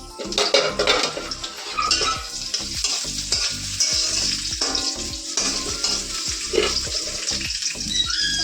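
Garlic and onion frying in hot oil in a pan, a close, continuous sizzle with frequent rhythmic stirring scrapes and clinks of a utensil against the pan.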